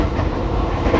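Inside an economy car of the Kamandaka passenger train, a steady low rumble rolls over the rails with faint rhythmic clatter, loud and close, with no voices.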